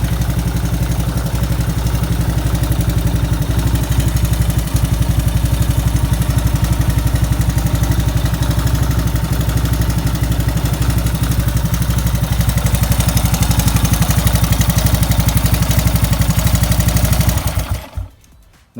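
A 1984 Honda ATC 200s three-wheeler idles steadily after its first start-up, a close, even, pulsing engine putter holding for about seventeen seconds before it abruptly cuts off.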